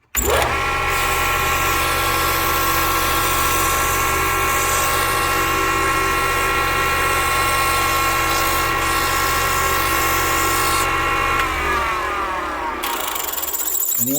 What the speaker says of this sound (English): you want to just keep on sanding until everything works really nice on both sides